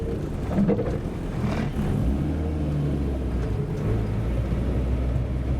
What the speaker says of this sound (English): Full throttle, full throttle. A little bit more gas.